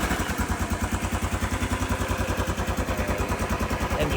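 A Royal Enfield Classic 500 single-cylinder engine thumps at idle after starting, a close, even, rapid pulsing beat holding steady throughout, no voices.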